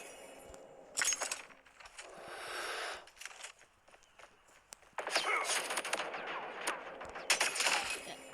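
Bursts of rapid automatic gunfire from an AK117 rifle in a mobile shooter video game, loud repeated volleys separated by brief quieter gaps, with footsteps and game sounds in between.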